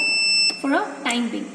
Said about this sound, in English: you can hear the relay also, you can hear the buzzer also